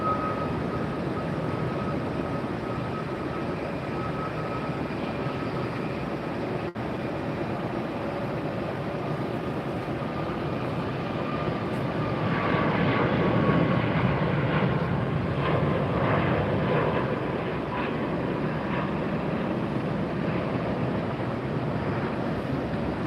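A Southwest jet departs Tampa airport, its engine roar building from a steady distant rumble into a louder, rougher surge partway through, with faint tonal whines and some wind buffeting.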